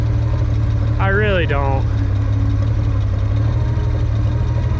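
A gas-engined tractor runs steadily at idle with a low, continuous drone. Someone speaks briefly over it near the start.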